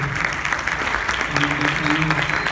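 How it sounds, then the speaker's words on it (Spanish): Audience applause at a Latin American and Caribbean drug policy conference for an award winner, a steady, moderately loud patter of clapping with a faint murmur of voices underneath. "Fuerte el aplauso"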